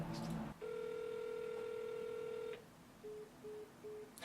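Telephone keypad dialing tones: a long sustained electronic tone followed by three short evenly spaced beeps, clear and steady with faint room noise beneath.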